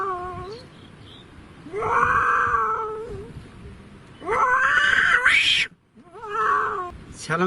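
A person imitates a cat with their mouth, giving three drawn-out, wavering meows close up, each rising and falling in pitch, with short pauses between them.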